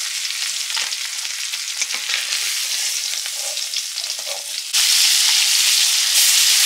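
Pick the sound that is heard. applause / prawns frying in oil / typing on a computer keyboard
prawns frying in oil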